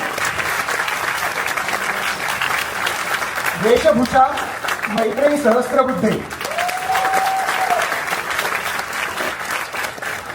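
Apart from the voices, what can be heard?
audience applause at a children's play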